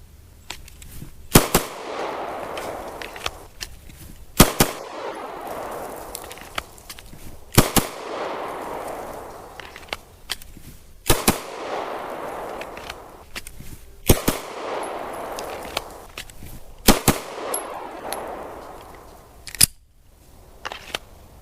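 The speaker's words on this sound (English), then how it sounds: "Draw, fire 2 rounds, reholster." Handgun shots at an outdoor shooting range, sharp loud cracks fired in spaced pairs with short pauses between, each followed by a fading echo off the range.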